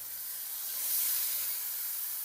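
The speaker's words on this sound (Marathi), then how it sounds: "थोडं पाणी टाकायचं." Water poured into a hot pan over fried spring onion, turmeric and green chili paste, giving a short steady hissing sizzle that swells briefly and then cuts off.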